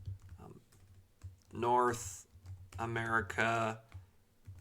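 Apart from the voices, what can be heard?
typing on a computer keyboard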